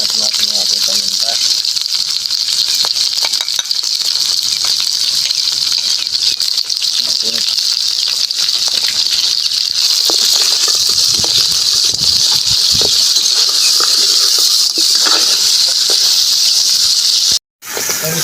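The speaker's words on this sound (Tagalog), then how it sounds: "Habang ginigisa po natin, lagyan na po natin yung ating paminta." Ginger, bay leaf and black pepper sizzle steadily in a hot pan for a goat head and feet sinigang, a continuous loud hiss and crackle running throughout, briefly cutting out near the end.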